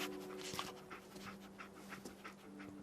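Dogmeat, the dog companion in Fallout 4, panting quickly and steadily up close in rapid rhythmic breaths over a low game background hum, with a faint whimper mixed in.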